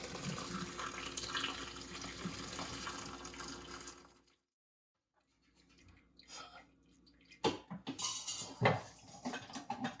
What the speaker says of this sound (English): We're going to strain out all the apple pieces and just be left with the liquid in the bowl.